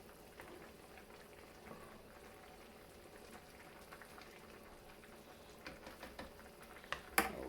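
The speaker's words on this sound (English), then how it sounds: "we got a nice rolling boil" Pea soup at a rolling boil in a pot on a snowy winter day, a faint steady bubbling and gurgling with a few louder pops near the end.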